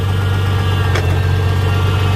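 A tractor engine idles close by with a steady low rumble and a faint vibration, unchanging throughout and with no voices.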